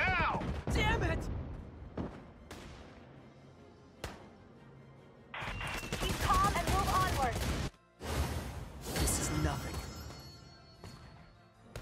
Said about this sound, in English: We need suppressive fire now!